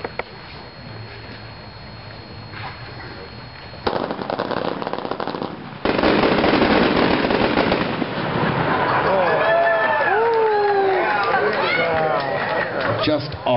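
A full case of Spirit of 76 Pro Line Colored Stars 12-shot cakes fires outdoors at a product demo: a quiet lead-in, then loud, dense crackling volleys of launches with rising whistles, and crowd voices mixed in.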